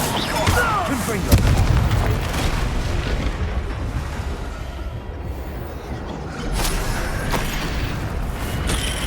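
A Confringo blast spell booms out during a Hogwarts Legacy fight, a loud burst with a rumbling crackle, set amid ongoing combat sounds and a steady layer of game noise and voices.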